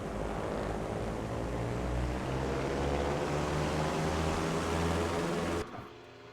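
The twin engines of a Piper PA-30 in Microsoft Flight Simulator 2024, heard from outside the aircraft, drone steadily with a pulsing propeller throb, loud and constant before dropping off abruptly near the end.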